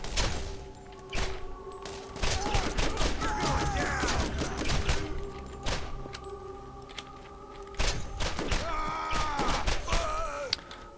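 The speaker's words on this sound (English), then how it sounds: "I'm getting shot at again, aren't I?" Enemy gunfire rattles through a Borderlands 3 firefight in dense, overlapping bursts and sharp shots, loud and continuous, with impact thuds mixed in and a voice talking over the fighting.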